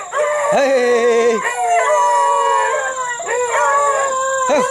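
Hunting dogs howl in long, loud drawn-out cries at close range during an early-morning rabbit hunt in Alabama, several overlapping voices rising and falling continuously with no break.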